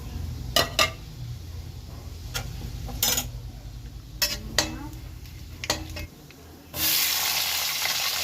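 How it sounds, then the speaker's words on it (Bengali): Four dried red chillies and panch phoron tempering in hot oil, a soft crackle and low hiss under sharp intermittent ticks and knocks of a utensil on the pan, ending in a sudden louder burst of sizzling. "এই তেলের মধ্যে ফোড়ন দেবো ফোড়নে আছে চারটে শুকনো লঙ্কা আর একটু পাঁচ ফোড়ন"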